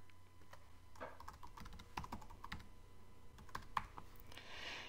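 Password being typed on a computer keyboard during online account sign-up: a steady run of light plastic key clicks, close and moderately quiet, with no talk.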